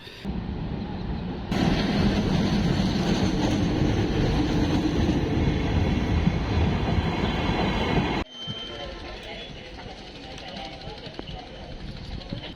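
A test train rumbles steadily and loudly across the Bangabandhu Sheikh Mujib rail bridge with rattling wheels on the rails, then the roar drops to a quieter rolling clatter; people talk underneath.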